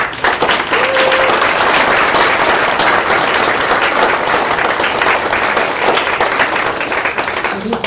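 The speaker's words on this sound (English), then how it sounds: "Let's give them a round of applause." Sustained loud applause from a large audience at a fall honors convocation, with dense clapping continuing steadily for the full stretch and a faint voice briefly underneath.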